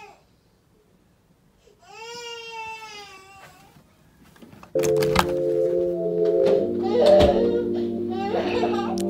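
An irritated, tired infant cries in drawn-out wails, starting soft and growing louder with repeated sobbing bursts, accompanied by a knock and thumps.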